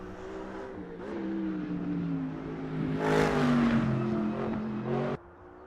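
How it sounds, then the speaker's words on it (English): An engine drones with a steady rising transmission whine from a GT3-style race car in the sim racing game Assetto Corsa Competizione, building and peaking mid-clip before cutting off abruptly near the end. "I really like that transmission sound. The external whine."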